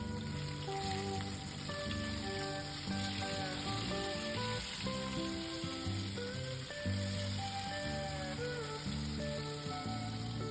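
Fish frying in a pan on a home kitchen stove beside pots of rice and dal, giving a steady close crackling sizzle with layered background tones and no talk.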